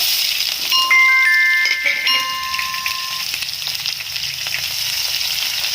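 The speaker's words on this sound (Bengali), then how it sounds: "পেঁয়াজগুলো একটু লাল লাল করে ভেজে নেব।" Chopped onions fry in hot oil in a pan along with bay leaf and cumin, a steady close sizzle with a few light metallic clinks near the start.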